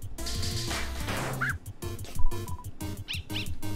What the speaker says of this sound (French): C'est un mini chien.